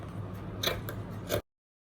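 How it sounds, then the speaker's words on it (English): Scissors cut fabric out for a pencil skirt in a short, quiet burst of a few soft crisp snips close by, over faint room noise. The sound stops abruptly. "And we cut it out."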